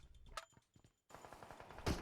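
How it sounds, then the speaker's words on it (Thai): Close-range gunfire in the mobile battle royale game PUBG Mobile: a few scattered shots, then after a brief silence a rapid automatic burst that keeps rattling, capped by a loud final crack. "มีเสียงปืนอยู่ใกล้เรานะ"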